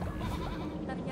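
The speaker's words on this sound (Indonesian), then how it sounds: "katanya itu adalah kambing." Goat bleat from the video game Cult of the Lamb, a single wavering bleat over dense game background sound, moderately loud and briefly rising at the end.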